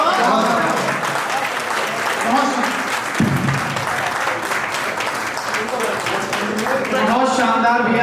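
Steady, loud applause from a live audience after a Hindi poetry recital about Jain gurus, sustained clapping filling the whole stretch with a voice speaking over it near the start and end.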